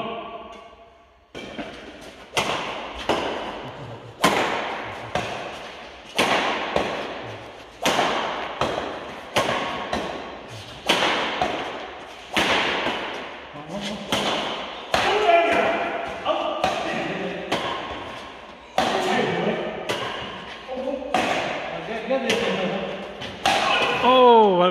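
Cricket bat striking the ball again and again at a match in Woking, near Shah Jahan Mosque: a dozen or more crisp, loud thwacks at fairly regular intervals, each ringing briefly, with voices rising in the later part.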